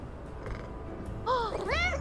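In the video game Little Kitty Big City, a cat gives a couple of clear, rising-and-falling meows close by, following a stretch of quiet background ambience.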